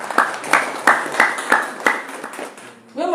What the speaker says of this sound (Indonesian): Tepuk tangan untuk kota Yogyakarta